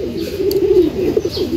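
Racing pigeons coo close by in a loft, with soft, repeated throaty warbles rising and falling over about a second and a half and faint chirps in the background.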